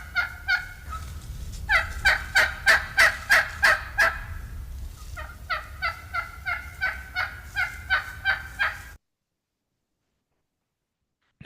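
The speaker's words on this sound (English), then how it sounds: "All turkeys make this noise. So here is the yelp." A turkey yelps in two long series of evenly spaced, raspy notes, loud and close, with a brief pause between the runs and then silence; no talk over it.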